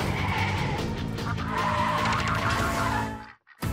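Loud race-car tire skid for a toy superhero-vehicle street race in a Lego City ad, a sustained screeching squeal over engine roar and music that cuts off abruptly near the end.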